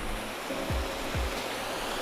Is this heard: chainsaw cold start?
no